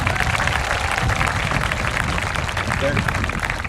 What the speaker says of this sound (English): how about another round of applause for our front ensemble?